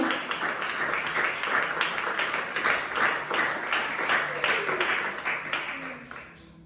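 A church congregation claps hard in a steady rhythm for God during a sermon, the beat continuing evenly before fading away near the end, with faint voices underneath.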